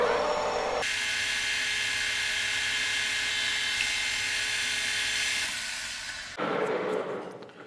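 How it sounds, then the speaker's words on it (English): A steady, loud machining whir as the end of a complicated fuel T fitting for Keihin CVK carburetors is dressed on a lathe, running continuously for several seconds before cutting off into softer shop noise. "Let's dress the end up and see if those little filters snap on."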